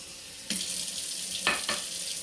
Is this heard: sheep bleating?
no